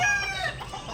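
Young 45-day-old chickens cluck steadily and close by, a dense flock chatter of overlapping calls with no pauses.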